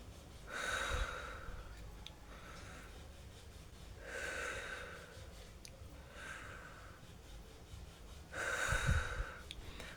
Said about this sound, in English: Just take a breath.